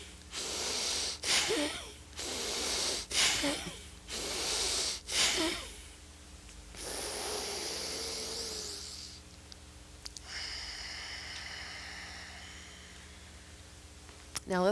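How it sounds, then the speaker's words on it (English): Bellows breathing done in a yoga session: a series of forceful, rhythmic nasal exhalations in quick bursts, followed by a few longer, drawn-out breaths, close and fairly quiet. "It's called the bellows, and what it does is it helps get out the carbon dioxide hanging out in our lungs."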